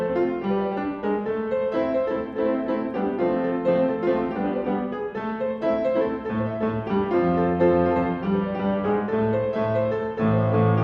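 Salsa music plays throughout, dense and loud, with bright layered horns or melody over a busy, driving percussion rhythm and no voices.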